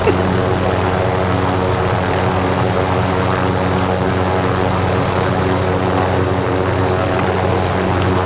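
A propeller airplane coming in to land, its engine a loud, steady droning hum that stays close and unbroken from start to finish.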